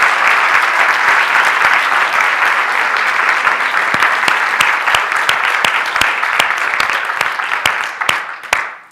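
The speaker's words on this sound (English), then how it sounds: "could we give these people a round of applause" Sustained, dense applause from a lecture audience honoring elders over 70, steady for most of the stretch with sharp individual claps standing out as it thins and fades at the end.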